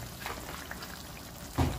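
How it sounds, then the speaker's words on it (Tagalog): Water pours into a cooking pan holding a large tilapia, a soft, continuous liquid splash at moderate distance over steady background noise, ending in a brief louder knock. "Lagyan natin ng konting tubig."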